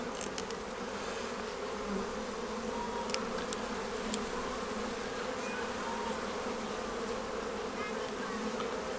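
Honeybees hum steadily and densely in an opened beehive during an inspection, a continuous close buzz with occasional louder passes of individual bees.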